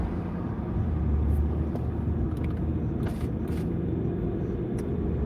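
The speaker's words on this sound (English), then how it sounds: "Your car drives and sounds great for 300K." A car with 300,000 miles on it drives along with a steady engine drone and broadband road rumble inside the cabin, constant and fairly loud throughout.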